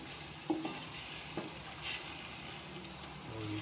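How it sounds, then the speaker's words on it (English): Sweet potatoes cooking in a pan with salt and a quarter cup of water, being stirred: a faint steady sizzle with a couple of soft spatula knocks and scrapes, quiet and close, no talking. "Then we stir."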